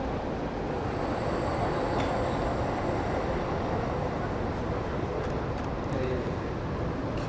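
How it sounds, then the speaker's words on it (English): A bullet train roars past on nearby tracks, a loud, continuous rushing rumble that stays steady throughout, with a few faint high squeals on top. "There should be a bullet train coming by soon."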